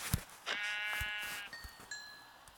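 Sheep bleating in Minecraft Pocket Edition, a few wavering bleats in sequence, fairly close and clear, with faint game clicks and no talk.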